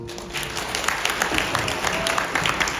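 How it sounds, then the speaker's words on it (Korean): Applause from wedding guests, a steady broadband patter of many hands clapping that holds evenly at moderate loudness throughout, with a faint murmur of voices underneath. "다시 한번 더 큰 박수 부탁드립니다"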